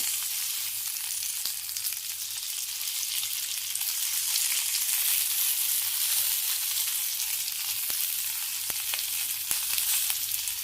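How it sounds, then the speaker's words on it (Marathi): Green chillies roasting in a hot pan give a steady, continuous sizzle with faint crackles and pops, close and even throughout with no voices. "थोडे डाग पडायला लागले त्याला बघू शकता तुम्ही मिरच्या भाजायला"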